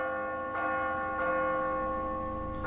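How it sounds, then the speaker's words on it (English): A bell rung in The Walking Dead video game, sounding as a loud sustained metallic tone with two or three struck onsets ringing over each other, no voices. "I did hit the bell, and he said a couple of rings should do it."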